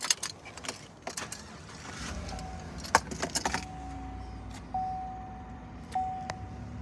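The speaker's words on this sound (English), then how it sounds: "We can start up the truck now to see more of that." A 2017 GMC Sierra 1500 pickup truck starts up after keys jangle, its engine settling into a low steady rumble while soft chime tones ring out.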